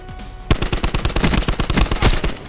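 A Galil assault rifle in Black Ops 4 fires a loud, sustained automatic burst, rapid evenly spaced shots hammering for about two seconds right after a brief quiet lead-in.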